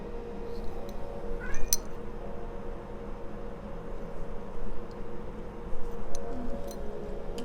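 A cat meows a few faint times indoors over a low steady background hum, with small ticking sounds and no talking.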